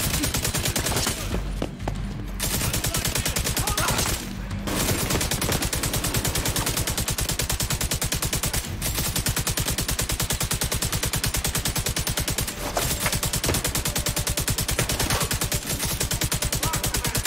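A Stoner machine gun in The Division 2 fires in long, steady automatic bursts, a relentless rapid rattle broken by a couple of brief pauses, loud and close throughout.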